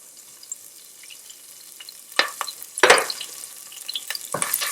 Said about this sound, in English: I'm going to fry it